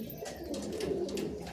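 Pigeons of a Giribaaz line at a home loft coo steadily and softly, a continuous low murmuring with no voices over it.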